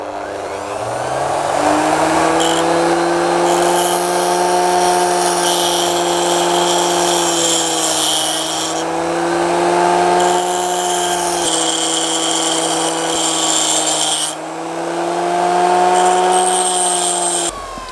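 A small bench grinder runs steadily throughout with a sustained whine and rumble, grinding a drill bit against the wheel, the tone dipping slightly as the bit is pressed in at several moments.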